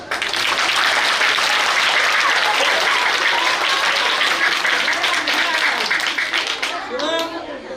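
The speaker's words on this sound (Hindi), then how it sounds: "हिमांशु भाई ले ताली के दे दो" Audience applause for Himanshu, a Ghudka player, at a traditional tribal music workshop; dense, steady clapping fills the whole stretch, then thins toward the end as a voice begins to speak.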